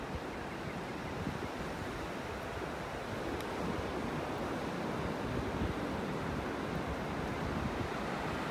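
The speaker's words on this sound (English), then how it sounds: "Some nice little waves out there this morning." Small ocean waves break on a beach in North Naples, Florida, on a morning walk. A continuous, fairly soft wash of surf rolls beneath steady wind noise, with no voices.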